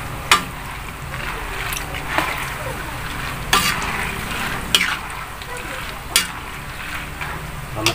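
Peanuts roasting in a pan are stirred continuously, giving a steady dry rustling hiss broken by sharp periodic scrapes and clatters every second or two, close by with no voices.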